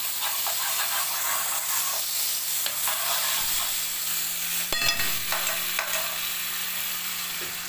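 Garlic sizzles in a pan as it starts to brown, a steady frying hiss with small crackles and a sharp metallic clink partway through.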